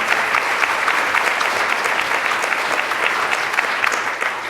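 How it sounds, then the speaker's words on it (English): A crowd at a social media club event gives a round of applause for a guest speaker, a full, steady roar of clapping that stays loud and even from start to finish. "So a round of applause for Graydon one more time and for the Social Media Club."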